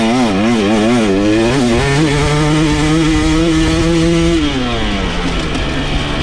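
A 2023 KTM TBI dirt bike engine revs hard while riding through ruts on a track, loud and close, its pitch climbing and dipping in repeated surges before settling into a sustained high drone.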